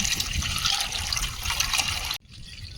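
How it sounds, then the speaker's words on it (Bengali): Water pours steadily into a bowl to mix chili, soy and tomato sauces for chili chicken, a close, continuous liquid splash that cuts off abruptly near the end. "chilli sauce soya sauce tomato sauce জল দিয়ে গুলে রেখে দেব"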